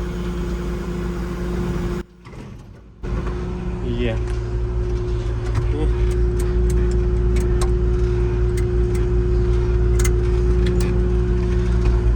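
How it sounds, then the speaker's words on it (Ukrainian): A 1991 Claas Dominator 68s combine harvester runs steadily with its header idling, giving a loud, continuous engine drone with a brief drop near the start and light ticking and clatter on top. "Так, жаточка на холостих працює гарно."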